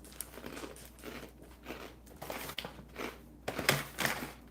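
Crunchy rice crisps being eaten up close: quiet, repeated bites and crackly chewing in an irregular rhythm, with no talking.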